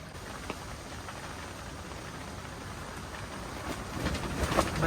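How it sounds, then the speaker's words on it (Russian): Steady rain falls around a tent camp on the Volga, a constant hiss of drops that thickens and grows louder toward the end. "Дождь идет."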